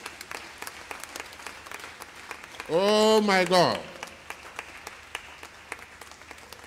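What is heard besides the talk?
congregation clapping for Jesus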